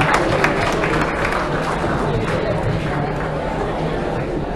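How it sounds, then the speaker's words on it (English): Sustained applause and crowd noise from a conference audience at a Model UN closing ceremony, steady and dense throughout with a murmur of chatter mixed in. "Can we have a round of applause, please,"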